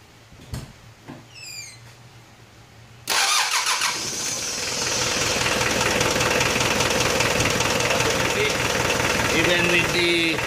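A rebuilt diesel engine with its glow plug disconnected cranks briefly and catches almost at once, then settles into a loud, steady knocking idle close by, with some handling noises before the start.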